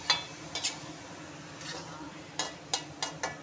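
Ridge gourd and bottle gourd sabzi being stirred and fried in a pan, with a faint steady sizzle under scattered clinks and scrapes of a spoon against the metal.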